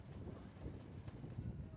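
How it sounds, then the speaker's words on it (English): Faint wind blows across an outdoor ultimate frisbee field during a women's club championship game, a soft, continuous broadband rush with no speech. "especially with this wind blowing the way it is."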